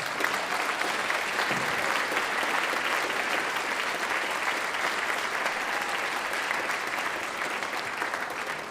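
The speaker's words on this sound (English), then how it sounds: "Could we have a big round of applause for all the auditorium staff guys?" Sustained audience applause for auditorium staff at a school band gathering, a thick, even roar of clapping hands and some crowd noise lasting throughout at steady volume.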